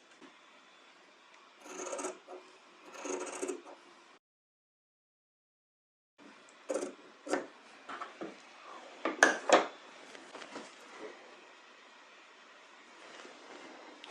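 Scissors snip through excess bias binding fabric, trimming it back: two short rasping bursts, a pause, then a run of close, uneven cutting and rustling sounds.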